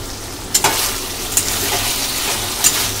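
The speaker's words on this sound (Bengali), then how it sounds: "কিছুক্ষণ ঢাকনা চাপা দিয়ে রান্না করার পর আমরা এটা একবার খুলে নাড়িয়ে নেব।" Potato and drumstick fish curry stirred in a hot pan, a loud continuous sizzle broken by a few sharp scrapes of the spoon against the metal.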